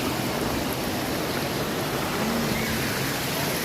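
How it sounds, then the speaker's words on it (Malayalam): Lang Voku waterfall in Assam roars as a steady, dense wash of falling water, constant and fairly loud throughout with no voices over it. "നമ്മളിതാണ് വാട്ടർഫാള്."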